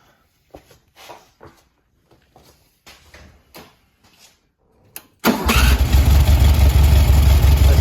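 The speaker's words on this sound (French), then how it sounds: "si je mets un coup de clé, elle démarre au quart de tour" A few soft clicks and rattles, then a 1971 VW Beetle engine cranks on the key and bursts into life, running loud and steady at a rough idle.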